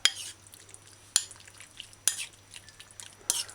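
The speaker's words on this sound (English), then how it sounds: "let's go through and coat the pork strips thoroughly" A spoon scrapes and clinks around a bowl as pork strips are stirred and coated, four distinct sharp knocks spaced about a second apart over soft shuffling, fairly quiet and close.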